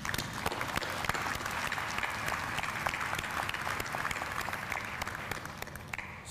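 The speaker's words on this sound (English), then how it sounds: "Join me in a round of applause." Crowd applause at a military activation ceremony at Osan Air Base, a steady, dense patter of many clapping hands with sharp individual claps standing out, continuing evenly throughout with no talking.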